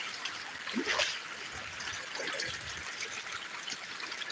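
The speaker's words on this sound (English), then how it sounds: "He's gonna clean out the top mat from his sluice right here." Water trickles and splashes steadily as the top mat of a gold sluice is washed out beside the South Umpqua River, a soft continuous wash with faint dribbling, no speech.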